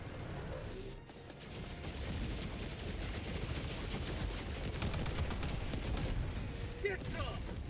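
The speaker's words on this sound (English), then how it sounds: "machine gun go burr" Rapid, continuous machine gun fire in the shooter game Helldivers 2, loud sustained bursts amid battle noise, with a voice speaking over it.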